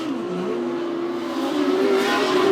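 A modified sedan race car spins toward the infield at Cairns Speedway, its engine droning loud and steady with a rising pitch and a faint squeal, while other cars roar in the background.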